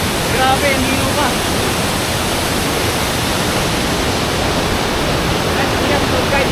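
Strong rushing water at Maranum Falls, a loud broadband roar of falling water that stays steady and close throughout, with a voice faintly present under the noise.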